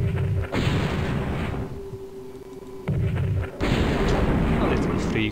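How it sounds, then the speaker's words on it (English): Artillery in the strategy video game Spellcross fires in heavy, roaring bursts, a long blast followed by a pause, then two more rumbling volleys, loud and dense with little quiet between them. "So my artillery must destroy them."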